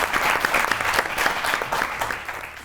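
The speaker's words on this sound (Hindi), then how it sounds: "बड़ी ताली होनी चाहिए जुनैद जमशेद को।" A studio audience at a comedy talk show gives steady, dense applause, many hands clapping continuously at moderate loudness and easing off slightly toward the end, with no talk over it.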